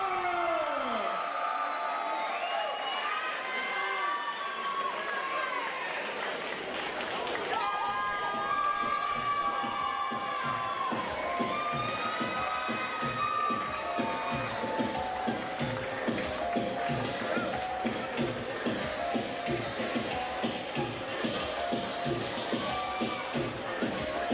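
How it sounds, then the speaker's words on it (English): Arena crowd at a Premier Fight League MMA event cheering and clapping for fan favorite Jennifer Brewer, a dense, continuous roar of applause sustained throughout with rising excitement at the start. "Let's have a big round of applause for your fan favorite, Jennifer Brewer"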